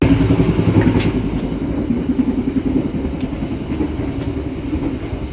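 Steady rumble of a Sancaka Utara passenger train from Surabaya in motion, a continuous low roar with faint rhythmic clatter, heard from inside a carriage with no talking.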